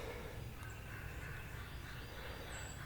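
Faint wild turkey gobbles from several toms carry from a distance across an open field over steady outdoor background noise.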